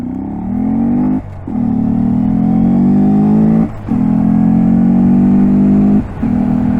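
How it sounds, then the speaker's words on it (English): A motorcycle, loud and close, accelerating hard through the gears, its rising engine note broken by three brief dips at each shift. "God, just that never gets old either, just flying through the gears."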